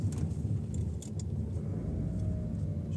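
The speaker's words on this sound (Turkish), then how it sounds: "Arabayı yeni çalıştırdım." A Ford Kuga's engine idles steadily just after a cold start, a low continuous rumble close by, with a few brief light metallic jingles near the start.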